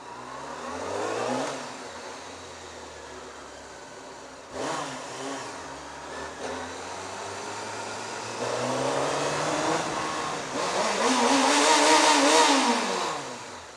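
A car engine, still on its stock exhaust, revving repeatedly in close, loud bursts that climb and fall in pitch, with longer sustained revs toward the end.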